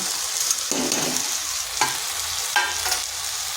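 Spices, tomato and potato sautéing in a pan, a steady bright sizzle with a few louder stirring scrapes at intervals; no voices.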